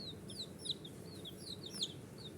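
Chicks playing in a tub cheep in a busy chorus of high, bright peeps, several overlapping and close, over a low background hum.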